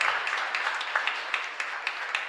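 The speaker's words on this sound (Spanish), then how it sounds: "Fuerte aplauso para todos." Audience applause during a church mass at a chapel, a steady wash of many hands clapping with scattered sharper claps, moderately close and without talk.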